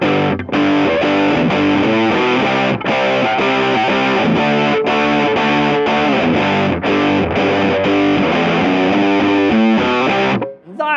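An electric guitar with a chorus effect plays a steady chordal riff with a shimmering, doubled chorus tone and some grit, strummed continuously before stopping abruptly.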